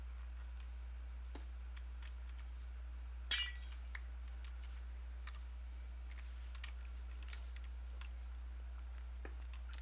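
Glass blocks breaking in a heavily modded Minecraft game, a single sharp shattering crack followed by scattered faint clicks and taps over a low steady hum.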